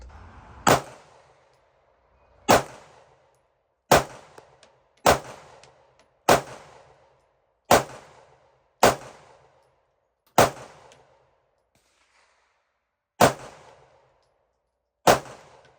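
Ten sharp gunshots from a Glock 43X pistol with a ported slide at a shooting range, fired singly at uneven intervals of roughly one to three seconds, each a loud crack with a brief ringing decay, and no talking.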